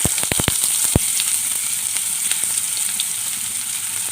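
Chopped onion frying in oil in a pan with cumin and white mustard seeds, a steady close sizzle with a few sharp pops and crackles near the start, no talking.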